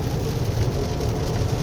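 A 2023 Toyota RAV4 Hybrid AWD engine works hard under acceleration on a wet winding road, a steady low droning hum with road and tire noise layered over it, continuous and fairly loud.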